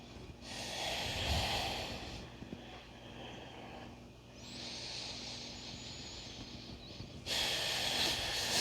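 Deep, broad breaths from a yoga practitioner during a mandala yoga class, with long airy inhales and exhales flowing in slow rounds; several strong, hissy breaths are close and fairly loud.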